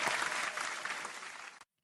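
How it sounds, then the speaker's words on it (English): A short burst of dense applause from an audience greets a call to clap for Diddy, steady and full for about a second and a half before cutting off abruptly into silence. "Round of applause to Diddy and his credentials"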